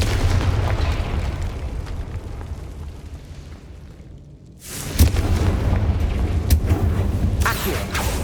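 Confringo fire spell blast cast in Hogwarts Legacy, a loud booming burst that cuts through a steady rumbling background, followed by sustained crackling roar at close range.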